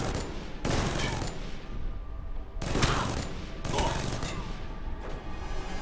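A turret with infinite ammo in the game Alpha Protocol fires long sustained bursts, loud and near, with brief gaps between volleys and mechanical rattling under the shots.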